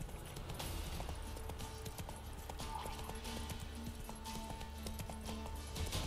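Geralt's horse Roach gallops in The Witcher 3, with a steady, fast clip-clop of hooves, a brief whinny, and a faint ambient game background underneath.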